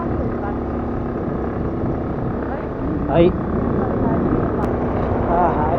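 An Aprilia scooter is ridden toward Bishnudwar Waterfall in Shivapuri National Park. Its engine gives a continuous droning hum mixed with wind rush, while a voice briefly speaks over the ride.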